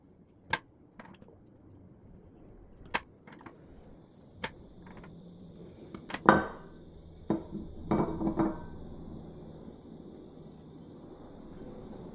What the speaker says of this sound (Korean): 수태망 아래로 빠져나온 수태를 가위로 정리해줍니다.